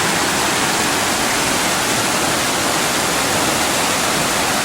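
Fast-moving stream water at a crossing rushes in a dense, steady roar, close and loud, continuous for the whole stretch with no voices.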